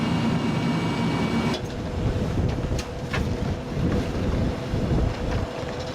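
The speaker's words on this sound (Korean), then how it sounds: "파도가 많잖아요, 지금." Rough sea churns around a fishing boat heading out to distant fishing grounds, a steady loud roar of waves and wind buffeting the microphone, with splashes and gusts surging throughout and no voices.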